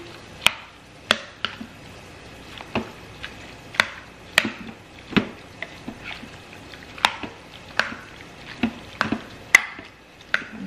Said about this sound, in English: I'm gonna give this a good stir to combine everything